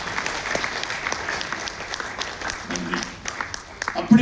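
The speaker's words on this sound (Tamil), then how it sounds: "உங்கள் இரு கரங்களால் ஒரு பலத்த கரவொலி கொடுக்குமாறு அனுப்ப வேண்டும்" A crowd at a Bharatanatyam dance event applauds with steady, moderately loud clapping, and a voice speaks over part of it near the end.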